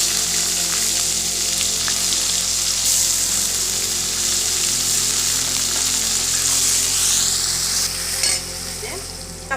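Chopped onion sizzles loudly in hot oil in a pan, a steady dense crackle throughout with occasional stirring scrapes, easing slightly near the end.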